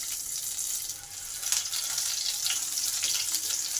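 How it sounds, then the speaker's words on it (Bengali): Chopped garlic and green chilli fry in hot oil with panch phoron, giving a steady, close, hissing sizzle that holds evenly for a few seconds with no talk. "রসুন আর কাঁচা লঙ্কাটাকে ভালো করে ভেজে নেব"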